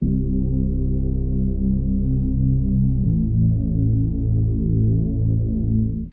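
A deep, thick Reese bass synth drones steadily, its gritty saw-wave tone muffled by a low-pass filter, shifting to a new note halfway through.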